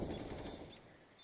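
Rapid rifle fire in Counter-Strike: Global Offensive during a competitive match, a quick burst of shots that fades within about a second, fairly quiet.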